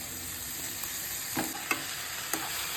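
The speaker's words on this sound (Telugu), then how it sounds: "ఆకుకూర మంచిగా తరిగి కడిగి పెట్టుకున్నాను కడిగి వడగట్టి పెట్టుకున్నాను ఇట్లా వేసుకున్నాము" Washed, chopped and drained leafy greens fry in a pan, giving a steady soft sizzle with a few brief stirring clatters, no talking.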